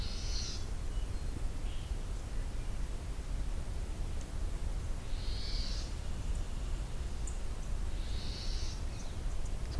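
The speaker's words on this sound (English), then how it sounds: "Most vireos sound like this when they're scolding." A vireo gives scattered short, harsh buzzy scolding notes, three or four bursts spread across a steady background hiss at a meadow pond, moderately close and with no voices.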